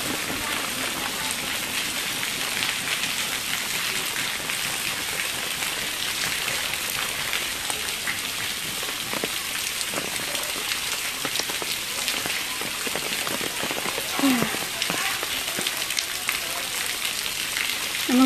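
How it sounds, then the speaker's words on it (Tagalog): Heavy rain pours down at a beachfront mall area on Boracay, a dense, steady hiss of drops hitting surfaces that stays constant throughout. "It's raining."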